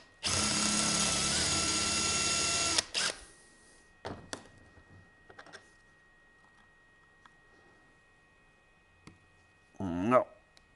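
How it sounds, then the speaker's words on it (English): A BOLTR 40V cordless drill drills out a stuck screw, a loud steady whine for a few seconds that stops abruptly, followed by clinks and handling noises and a person speaking at the end. "Ended up drilling the head off it."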